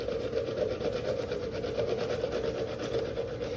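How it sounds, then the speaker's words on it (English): Zucchini rubbed steadily against a box grater fitted with a plastic catch container, giving a continuous close rasping scrape with a fast, even back-and-forth rhythm and no voices. "This little box grater is great because it has a little plastic container that everything is just grated right into"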